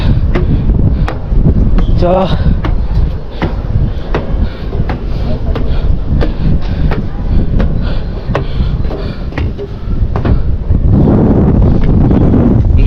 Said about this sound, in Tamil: இது இல்லாமல் சில்லுன்னு காற்று வருது.